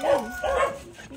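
A jet-black male hunting dog barks in short repeated bursts, fairly close and loud, with people talking around it outdoors.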